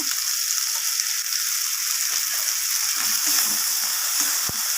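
Hilsa curry masala fries in mustard oil, a steady close sizzle running throughout with soft stirring scrapes and a brief utensil tap near the end.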